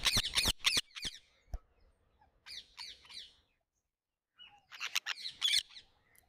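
Indian ringneck parakeets living wild in a city give bursts of sharp, high, harsh chirps and squawks, with a quick run of loud calls at the start, a looser cluster in the middle and another dense flurry after a brief silence.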